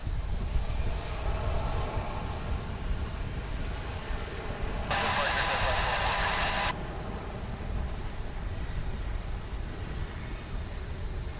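A Boeing 757 jet takes off at DFW International Airport, a loud, continuous broadband roar that holds steady, with a brighter hissing surge for a couple of seconds midway.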